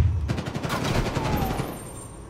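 Call of Duty Black Ops Cold War gunfire in a co-op match, a close, loud rapid burst of shots that rattles on and then tapers into lingering echo.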